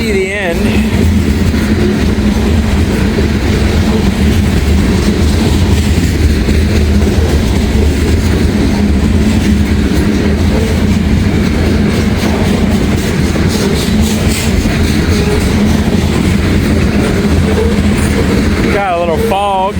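Freight grain train of old grain hopper cars passing close by in light fog, continuous heavy rumble and clickety-clack of wheels over rail joints, with a faint squeal near the end.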